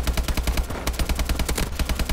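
Rapid automatic gunfire in Call of Duty Advanced Warfare's Exo Survival co-op mode, a dense string of sharp repeated shots, loud and close, with no talking.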